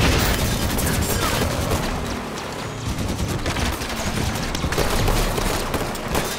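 Gunfire in Call of Duty Warzone: dense, loud bursts of rapid shots and booms that keep crackling without a break, briefly easing in the middle before building again.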